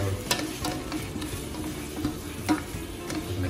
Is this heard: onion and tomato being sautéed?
yes